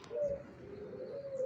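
Wild pigeons or doves coo softly at a distance outdoors, a steady low murmur of repeated calls with a few faint chirps, no voices.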